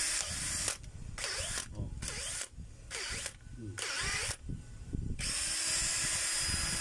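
A DCD776 power drill with a faulty chuck runs in several short bursts separated by pauses, a loud, close whirring with a brief exclamation from a voice.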